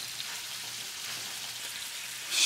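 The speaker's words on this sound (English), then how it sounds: "Now we got some butter and garlic in the pan. We're gonna put some beef in." Beef sizzles in a pan with butter and garlic, giving a soft, steady crackling hiss like light rain that holds constant throughout, with a brief louder burst at the very end.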